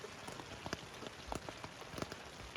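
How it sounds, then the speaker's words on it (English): Steady rain drumming on a tent at Sandbar Beach, a dense constant patter of drops with sharper individual taps on the fabric, close and even throughout, with no voices. "So it's currently raining. I don't know how well you can hear me over the rain,"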